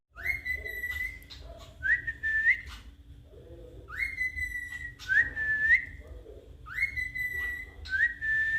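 Pet birds at home let out bright, repeated whistling calls in three bursts with chirps between them, over a low steady hum and no talking.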